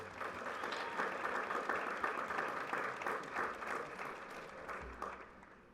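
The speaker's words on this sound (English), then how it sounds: "Let's give them a round of applause." Steady crowd applause for a school band fills a high school commencement ceremony, a dense wash of many hands clapping at moderate, somewhat distant volume without a break.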